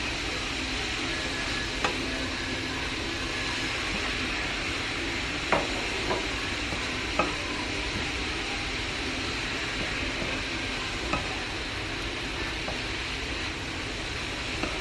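Spices frying in a pan during home cooking: a steady, close broadband sizzle runs throughout with occasional faint clicks and stirring ticks, no voices.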